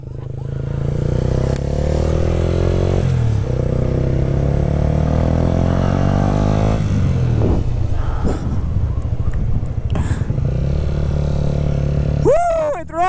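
A repaired Yamaha YZF R125 sport motorcycle rides past with a rising and falling engine whine that climbs through the gears. Clattering noises and excited shouting voices come in over the engine toward the end.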